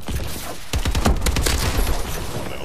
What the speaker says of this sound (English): That was a sniper.